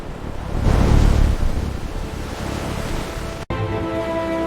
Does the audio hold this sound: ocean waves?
yes